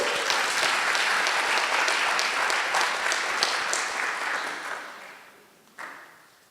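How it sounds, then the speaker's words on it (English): An audience at a leadership program graduation ceremony claps in sustained applause that slowly fades out, followed by a single brief clap near the end. "So let's give them a round of applause."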